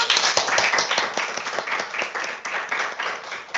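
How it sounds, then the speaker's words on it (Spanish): A sociology class bursts into brisk, dense applause, many hands clapping together steadily from start to finish at close range. "un fuerte aplauso"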